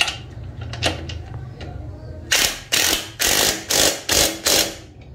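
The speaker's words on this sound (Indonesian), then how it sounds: "Ini saya kencengin pakai impact ya." An impact wrench tightens the swing arm bearing on a Yamaha RX King motorcycle. After a few faint clicks, six loud, rattling hammer bursts come in quick succession, each about half a second long, close by and without talk.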